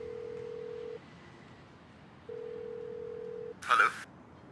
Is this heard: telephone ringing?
yes